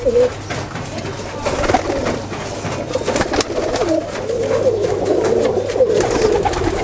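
Red Pilong pigeons coo repeatedly at close range, their throaty calls layered over rustling and scattered clicks.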